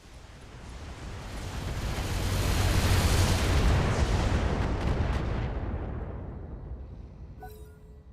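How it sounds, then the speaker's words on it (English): A single heavy sniper artillery blast in a video game battle swells into a long, loud rumble that peaks midway and slowly fades, with no voices over it. "They've got sniper artillery coming from something. And they fired at the Horsker and missed."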